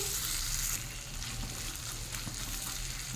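Potatoes sizzle in oil in a pan over a low flame, a close, steady frying hiss with faint stirring scrapes and no talking.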